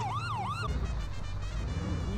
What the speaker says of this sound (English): The ambulance is driving off.